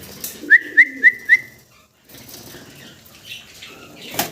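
Local desi golla pigeons flap their wings in a loft, four quick evenly spaced whooshing bursts up close, followed by softer rustling and shuffling and one more flutter at the end.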